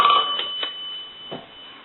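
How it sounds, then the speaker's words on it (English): A Western Electric 2514 desk telephone rings with a bright, steady electric bell tone in short repeated bursts. It is close and moderately loud, with no voices. "We'll go ahead and answer the telephone on a ring."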